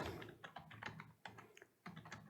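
Fingers typing on a computer keyboard while writing JavaScript code, a quick irregular run of close, crisp key clicks in short bursts with brief pauses between them.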